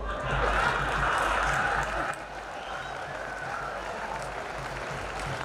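An audience at a Hindi comedy poetry show breaks into sustained applause, loud and dense for the first two seconds, then settling into softer, steady clapping.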